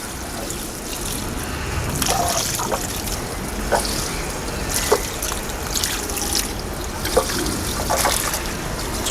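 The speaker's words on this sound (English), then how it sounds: "So all we need to do next is give it a water first." Water trickles and splashes steadily onto soil around newly planted geums in a garden border, a fairly loud continuous pour outdoors with occasional spattering bursts.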